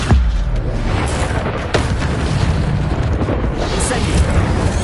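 In the video game Hogwarts Legacy, the Incendio fire spell goes off as a loud, dense roaring blast with booming bursts, close and continuous.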